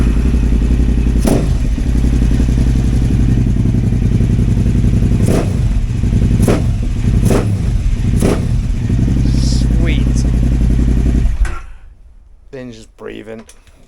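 A KTM 950 Adventure S with a new air intake system and rejetted carburettors idles with a steady, loud, low engine rumble, broken by occasional sharp clicks, before it cuts off and leaves quieter handling noises.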